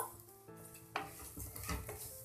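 Salted flattened rice (chire) fries in a pan, soft sizzle under clinks and scrapes of a spoon against the metal, a few sharp knocks.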